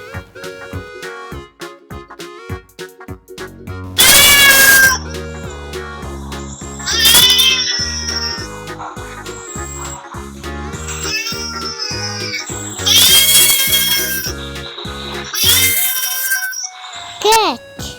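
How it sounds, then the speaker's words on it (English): A cat meows in several short, bright bursts over a steady backdrop of children's game music, each cry rising and falling in pitch. "Cat."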